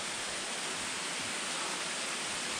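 Waterfall on the North Kaibab Trail, a steady broadband rush of falling water that stays constant and fairly strong throughout, with no voices over it.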